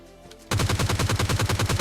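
G3 rifle firing in the video game PUBG Lite: after a quiet moment, a rapid, loud burst of evenly spaced shots that continues to the end.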